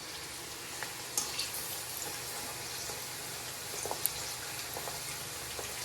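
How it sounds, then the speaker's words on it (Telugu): Okra deep-frying in oil for pickle, a faint continuous bubbling sizzle with occasional soft pops and light stirring clicks, quiet and steady throughout. "ఇలా డీప్ ఫ్రై అయ్యేవాలి."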